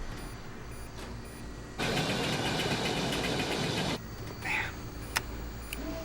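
Aircraft engines sputter and roar as they choke on bad fuel, a loud rough surge lasting about two seconds over a constant engine drone, then uneven coughing and clanks.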